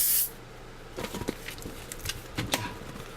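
A long magic balloon is pumped up for shaping grapes, leaving about 12 to 13 cm uninflated at the tip; soft rhythmic hissing air strokes and rubber squeaks come in short bursts, fairly close and quiet.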